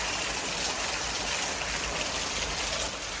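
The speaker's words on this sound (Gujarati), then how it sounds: "અને જો વરસાદ પડે છે" Steady rain falling outdoors near a freshly cleared drain and gutter in Vadodara, a dense even hiss with no pauses, fairly loud and close.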